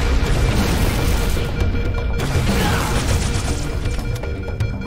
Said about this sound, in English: Yeah, I got big explosion gun.